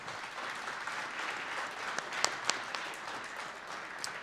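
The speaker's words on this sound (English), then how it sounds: "So give Piggly Wiggly another round of applause." Faint, distant audience applause for a sponsor during a live sports talk show, a soft steady wash of clapping with a few sharper individual claps popping through.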